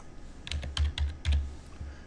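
Several quick clicks of a computer mouse, close and crisp, arriving in small clusters over about two seconds while buttons are edited in Flash; no voices.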